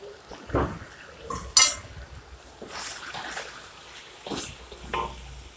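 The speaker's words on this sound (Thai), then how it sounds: "เราผัดเห็ดหอมแห้งกับสังเกลอลงไปเลยนะคะ" Metal utensils scrape and clink against a pan while stir-frying dried shiitake mushrooms, a few irregular strokes, fairly quiet, with a soft sizzle underneath.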